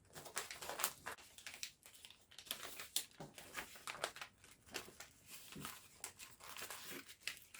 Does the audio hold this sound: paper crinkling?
yes